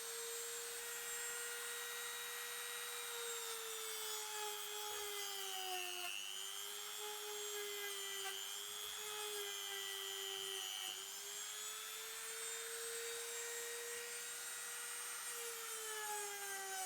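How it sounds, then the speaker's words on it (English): A steady, high motor whine from a rotary tool cleaning and smoothing an aluminium part on a Suzuki Intruder VS1400 motorcycle during a headstock bearing rebuild, running continuously at close range with slight pitch dips under load. "this aluminium up here, this can all be rubbed back down, sanded down, and be cleaned up"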